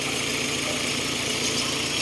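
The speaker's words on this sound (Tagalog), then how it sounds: "Tapos pag nag-aircon, yun, malakas yung palya." A car engine idles roughly with the air conditioning on, misfiring from a faulty ignition coil, a loud steady rumble with uneven low pulsing, close up and alone.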